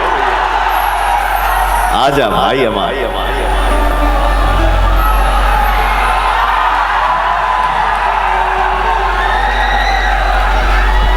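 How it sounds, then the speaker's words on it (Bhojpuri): A large crowd at a Bhojpuri devotional stage show cheers and whoops loudly and continuously, with someone shouting over the din through a loud PA. "एक जोरदार ताली हो जाए ओ भैया।"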